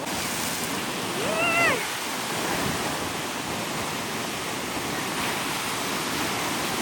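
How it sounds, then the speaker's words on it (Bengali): Sea waves surge onto the beach at Sitakunda, Chittagong, where people are bathing, a broad roaring wash of surf heard up close with a brief high voice cutting through early on. "এই দেখো কিরকম সমুদ্রের ঢেউ"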